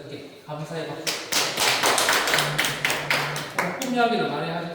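An audience at a lecture claps for the speaker, giving a run of sharp, close claps of uneven rhythm, while voices talk over and around them.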